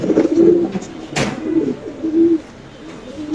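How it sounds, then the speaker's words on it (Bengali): Fancy pigeons at a pigeon farm coo loudly and close up in several throaty rolling calls, with a sharp brief rustle or flap partway through. "এখানে আছে একটা শৌখিন কবুতর আপনি দেখতে পাচ্ছেন"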